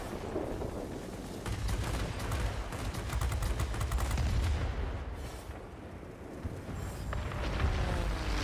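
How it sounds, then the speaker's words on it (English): Aircraft guns firing in World of Warplanes, flying a Bf 109 K-6: dense, continuous bursts of gunfire over a steady engine roar, loud throughout with a brief lull midway. "Maybe we will shoot this one then."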